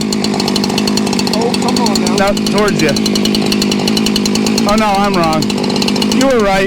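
A Husqvarna 572 chainsaw runs loud and close with a steady high engine drone while people talk over it.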